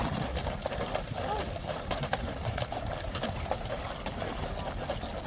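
Hooves of the King's Guard horses clip-clop steadily on a morning street, a busy repeated clatter under constant crowd and traffic noise with voices talking throughout.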